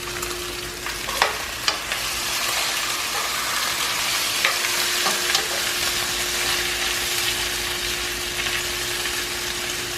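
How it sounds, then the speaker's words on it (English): Garlic frying in a pan for Spanish rice with chicken makes a constant, dense sizzle and crackle up close, with a low steady hum beneath and a few soft stirring knocks. "Lo dejamos dorar otro poquito con el ajo."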